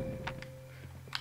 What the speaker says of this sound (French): le bruit que ça fait, c'est quand on me tape